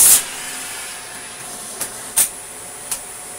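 Shark DuoClean NV801 vacuum cleaner running with a steady, close, hissing whine throughout, punctuated by a few brief sharp bumps and clicks.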